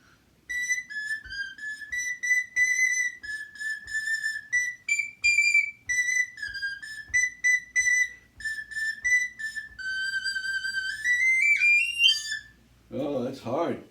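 A small recorder plays a bright, steady run of short notes, mostly tongued and fairly close, wavering in pitch near the end before a brief voice reaction at the close.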